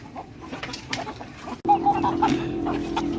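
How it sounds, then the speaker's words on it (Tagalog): Chickens clucking at feeding time, a busy cluster of short clucks and squawks close by, with scattered calls over a steady background of the flock. "magpakain tayo ng mga chicken"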